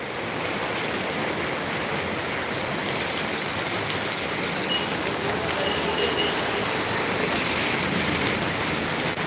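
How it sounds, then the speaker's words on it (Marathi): Heavy monsoon rain pours down in Sangameshwar, Ratnagiri, in the Konkan, a dense, steady roar of falling water that stays even and loud for the whole stretch with no voices. "पाऊस बघा मुंबईचा पाऊस"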